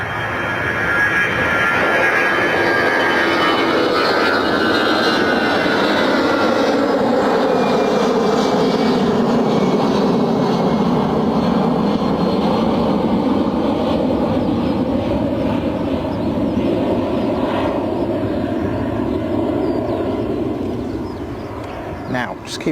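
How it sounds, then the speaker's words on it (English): An Airbus airliner begins its takeoff run at Bristol Airport, a loud, steady engine roar that holds and slowly shifts in pitch across the whole stretch, with no talk over it. "Airbus continue, starting its run"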